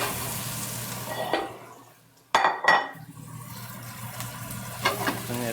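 Shallots are tossed into a very hot pan on a home stove, with metal clanks and scraping of a pan and utensil followed by a sizzle over a low background hum, and no talking.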